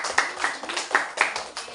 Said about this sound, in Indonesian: Tepuk tangan buat Widi